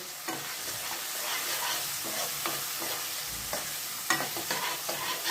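Green peas and turmeric sautéing in a pan for potato poha, a steady sizzle broken by repeated scraping and stirring strokes of a spoon, no voices.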